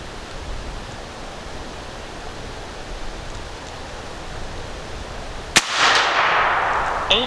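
A single sharp, loud report from a Tex Rex .50 caliber muzzleloader fired at a 60-yard target rings out near the end, with a broad rushing decay trailing off after it over steady outdoor background noise.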